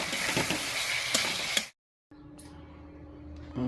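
Potatoes dropped into hot oil for a Bengali aloo dum give a loud, dense sizzle, then a sudden break into silence and a quieter, steady frying hiss.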